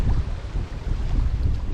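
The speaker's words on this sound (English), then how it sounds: "A little windy" Steady, rumbling wind buffeting the microphone at a woodland shelter on the Long Trail, loud and continuous with no other sounds.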